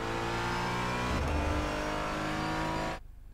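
A car engine revving with audible gear changes in the background, a steady loud drone that shifts pitch mid-clip, then drops off abruptly near the end.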